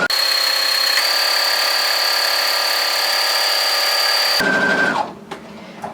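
A sewing machine runs a steady, loud whirring stitch along a cushion seam for about four seconds, then slows and stops, leaving faint handling noise.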